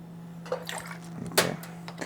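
Non-alcoholic gin poured into a cocktail glass or jigger, a short liquid trickle with a few small splashy bursts over a steady background hum.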